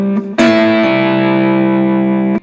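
A slide guitar lick played with a slide ring, with a slide, hybrid picking and a pull-off to an open string, then a bright chord that rings out with a long sustain before cutting off. The guitar is loud and close, with no voices.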